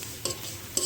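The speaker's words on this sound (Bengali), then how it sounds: "এভাবে আমি লবণ হলুদ ছাড়া ভেজে নেব, হালকা তেল দিয়ে ভেজে নেব।" Red lentils fry in a little oil, with a soft, quiet sizzle broken by two brief scraping stirs of a spatula in the pan.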